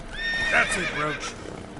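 Roach, Geralt's horse in The Witcher 3, gives a short, bright neigh, close and clear over faint hoof clip-clops, lasting under two seconds.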